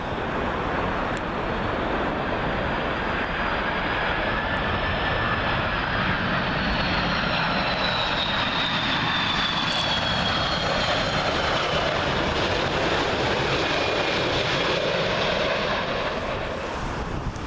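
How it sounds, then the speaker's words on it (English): An Air Algeria Airbus A330 arriving from Algiers and landing on runway 27L at Heathrow, a loud continuous jet rumble and hiss with a faint descending whine, steady throughout as it passes close overhead. "Air Algeria A330. This one coming in from Algiers."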